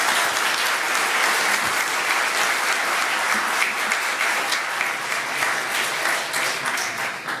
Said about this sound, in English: let's give a big round of applause to our debaters